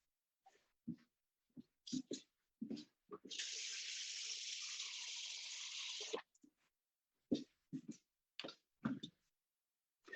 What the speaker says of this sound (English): You want to put about 1 inch of water in here.